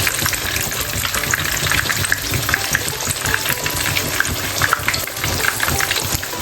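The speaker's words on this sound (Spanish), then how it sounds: "Freímos bien del otro lado" Stuffed potatoes with cheese frying in hot oil, turned to cook the other side: a continuous loud, close sizzle and crackle with steady bubbling and no pauses.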